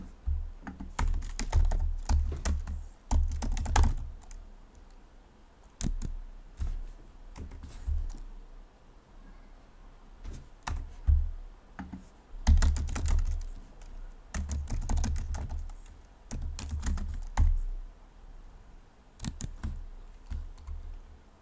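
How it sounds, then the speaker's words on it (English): Bursts of computer keyboard typing while code is entered for a SwiftUI chat app, clustered runs of clacking keystrokes separated by short pauses, close and fairly loud with no talking. "So just type in the following."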